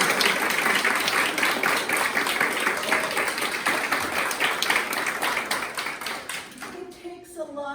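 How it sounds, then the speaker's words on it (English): An audience claps for storytellers in a sustained round of dense applause that gradually tapers off, followed by a voice speaking as it ends. "Let's have another round of applause."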